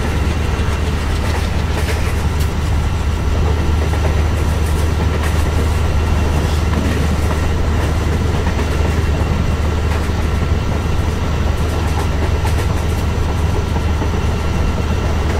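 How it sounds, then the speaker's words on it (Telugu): In Train Simulator, two Indian trains including a WDM3D diesel locomotive run side by side on a Central Railway route, with a steady loud low engine rumble and continuous wheel noise, no voices. "గైస్ ఇక్కడ అది రెండు ట్రైన్లు పక్క పక్కన భలే వెళ్తున్నాయి"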